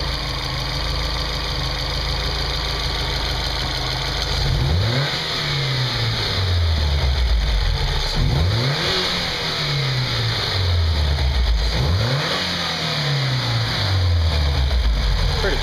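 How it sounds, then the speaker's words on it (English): A Subaru engine with a front-mount intercooler and diverter valve is revved several times in quick succession, each rise and fall clear and near over a steady idle, with a faint hiss between revs. "gonna give it a rev and a couple of revs and see how it works."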